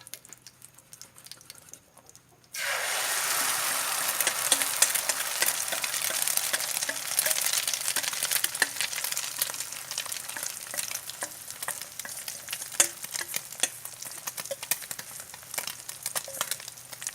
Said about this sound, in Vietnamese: Giờ mình bắt đầu mình chiên nha mấy bạn.